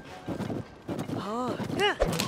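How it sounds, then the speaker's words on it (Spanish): In Zelda: Tears of the Kingdom, hooves clatter along as a horse whinnies loudly, with a second whinny close behind, amid scuffling and rustling. "Lo están atacando otros caballos"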